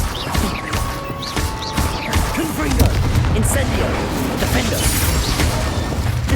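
Spell blasts from Confringo and Incendio in the Hogwarts Legacy video game, a dense run of booming, crackling magical impacts layered with clattering effects, steady and loud throughout, with voices calling out spell names over it.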